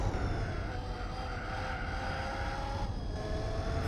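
Steady, droning car engine note from the racing video game Gran Turismo 4, a continuous loud hum with layered harmonic whine held throughout, no voices.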